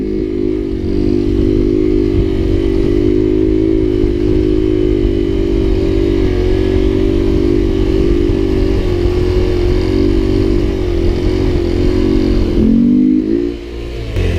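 A Honda Grom motorcycle held in a slow wheelie, its small engine droning loud and close at a steady pitch with slight rises and dips, dropping off briefly near the end.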